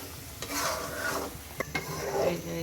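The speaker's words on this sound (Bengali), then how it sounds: "এই যে মশলা কষানো হচ্ছে" Spices sizzle and fry in oil in a pan for a chicken dish, with a continuous close hiss and the scrape of a spoon stirring through the masala.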